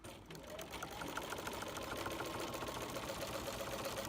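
A sewing machine stitches down a quilt seam for a crossword puzzle quilt, a steady continuous hum with a faint repeating needle rhythm, close but quiet.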